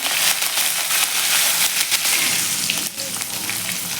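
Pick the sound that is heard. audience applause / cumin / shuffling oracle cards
cumin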